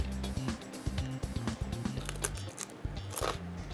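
Close, rapid crunching and biting on crispy spicy chips, a steady run of crisp snaps over a low background with no clear talking.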